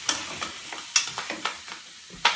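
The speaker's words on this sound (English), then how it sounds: "I'm taking care that my Canadian bacon doesn't burn" Canadian bacon frying in a pan, with light sizzling crackles and a series of sharp pops and spatters, fairly close and without any talk.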